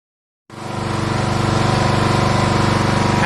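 A petrol pressure washer engine bursts into life after a carburetor cleaning and holds a loud, steady, close running drone with a rapid rhythmic pulse.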